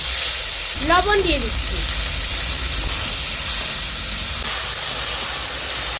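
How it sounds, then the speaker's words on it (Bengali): Cumin seeds sizzle in hot oil for a mustard-based gule fish curry, giving a steady frying hiss throughout while someone talks over it. "এবার আমি তেলের উপরে জিরে ফোড়ন দিয়ে দিচ্ছি।"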